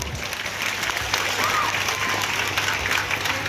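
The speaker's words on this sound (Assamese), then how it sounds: "মই ইয়াত উপস্থিত থকা সকলোকে এটা হাত চাপৰিৰে তেখেতসকলৰ শলাগ ল'ব বিচাৰিছোঁ" An audience at an Assam Jatiya Bidyalay school gathering applauds for the school's founders, with steady, dense clapping from a crowd under faint background murmur.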